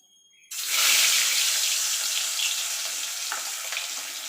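Pieces of boal fish are slipped into well-heated oil, and a sudden loud, hissing sizzle starts at once and carries on steadily and close by.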